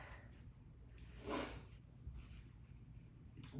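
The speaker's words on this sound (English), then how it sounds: "Excuse my sniffling." A single quick, congested nasal sniffle from someone with allergies, heard as a short breathy snort against faint background hiss, with no talking.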